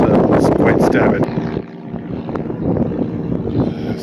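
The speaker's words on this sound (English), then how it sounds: "So we got an airplane overhead" An airplane towing an advertising banner passes overhead at Miami Beach, a broad rumbling drone mixed with wind buffeting the microphone, fairly loud and continuous throughout.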